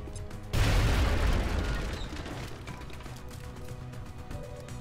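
A grenade goes off in the tactical game XCOM Enemy Within, one sudden heavy blast with a deep boom that rumbles and fades over several seconds.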